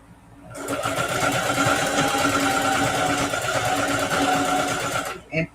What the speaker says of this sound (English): put a lot of back tack stitches at the beginning